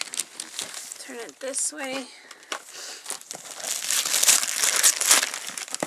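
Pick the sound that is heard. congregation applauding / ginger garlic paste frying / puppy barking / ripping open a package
ripping open a package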